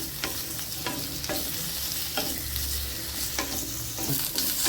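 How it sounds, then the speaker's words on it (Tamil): Radish pieces sautéing in oil for sambar, a dense, steady sizzle with a spatula scraping the pan in repeated strokes, close up and fairly loud. "அடுத்து முள்ளங்கி லைட்டாக வதக்கிடுவோம்."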